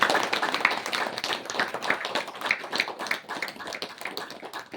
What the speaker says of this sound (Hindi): वाह, खुद के लिए तालियां बजाओ।